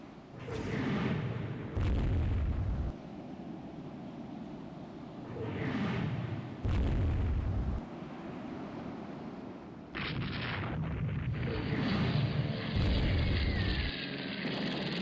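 Explosions from a naval torpedo strike in the Rule the Waves 3 warship game: repeated heavy booms with rumbling tails arrive every couple of seconds, then a sustained roar builds near the end, with no one talking.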